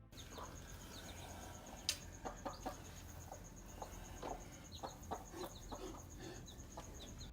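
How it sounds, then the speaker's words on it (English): A mother hen clucks to her chicks outdoors, with soft repeated clucks and peeps scattered over a steady low hum and a faint high tone, fairly quiet and without speech. "a mother chicken was seen tending to her clucking little ones"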